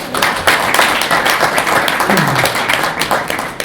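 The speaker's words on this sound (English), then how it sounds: "let's start off by first giving a huge round of applause to all the organizers and volunteers of DrupalCamp New Jersey" An audience at a DrupalCamp New Jersey conference talk gives a round of applause, dense and close clapping that stays loud and steady throughout, with a brief low voice murmur underneath.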